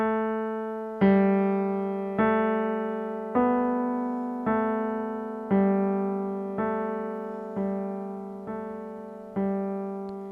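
A piano plays a slow chord passage, about ten evenly spaced struck chords, each ringing and decaying before the next, soft and unaccompanied.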